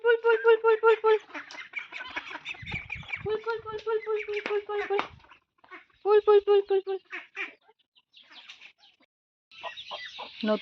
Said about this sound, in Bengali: একটা মুরগি আমাদের বাচ্চা দিয়েছে এটাকে এখানে আটকে রাখা হয়েছে